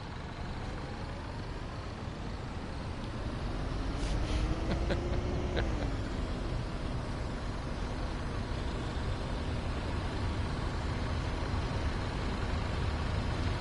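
In the game Truck Driver, a bus engine drones continuously and loudly under broad road noise. A faint engine tone rises midway and then eases back down.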